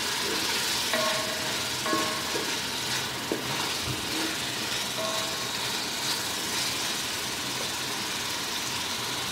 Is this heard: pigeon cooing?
no